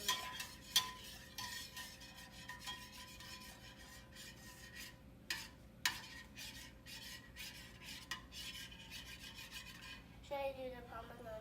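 A utensil scrapes and clinks against a bowl while scrambled eggs are mixed, giving irregular close rasping strokes with occasional sharper taps, fairly faint overall.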